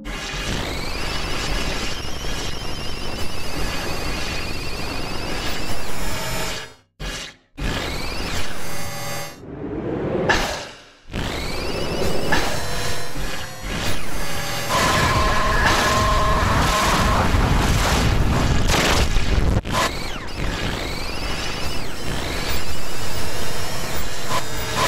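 Harsh electronic feedback tones from a no-input mixer, buzzing whines and sweeping pitches play continuously, with a few abrupt cut-outs and glitchy bursts, used as video game sound effects.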